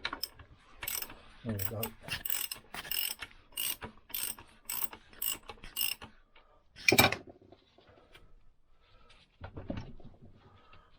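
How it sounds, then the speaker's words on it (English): A 1964 Lambretta Li125 engine being turned over by hand at the crank, sending the piston up and down the barrel; a run of close, rhythmic mechanical clicks and ratcheting ticks, with a short spoken remark and a few heavier clunks afterward. "So let's just give the crank a turn, get the piston up and down the barrel."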